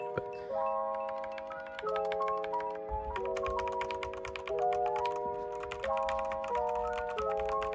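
Typing on a custom-built computer keyboard, a quick rhythmic patter of key clicks heard close up under steady background music, with no talking.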